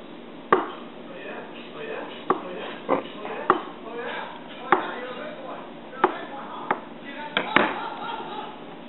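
Knife strokes chop through a boiled egg onto a board while making a salad, about ten sharp cuts at an uneven pace, close and clear.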